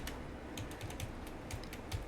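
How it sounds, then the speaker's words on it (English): Keys on a computer keyboard are pressed in an uneven series of sharp clicks over steady background noise, close by, with no one talking. "this is me pressing the keybind N"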